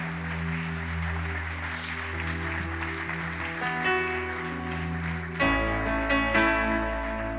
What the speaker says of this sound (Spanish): Dale un fuerte, fuerte aplauso al Señor